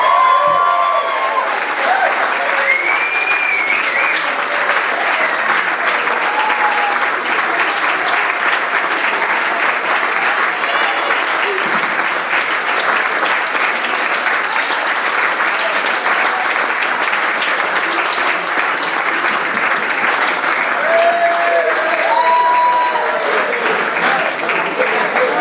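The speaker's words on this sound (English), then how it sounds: "Have a huge whoop and a cheer for Justin." A large audience applauds and cheers loudly and continuously at a junior cricket club awards session, with dense clapping and scattered whoops sustained throughout.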